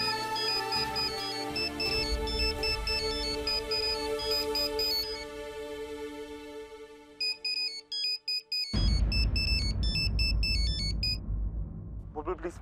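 A bright electronic ringtone melody plays loudly and repeats, then cuts off abruptly before a brief few notes resume over rumbling noise.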